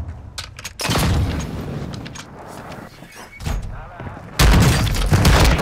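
Heavy booms and bursts of gunfire crash through the Call of Duty battlefield, two big loud blasts standing out over a rumbling, crackling combat background.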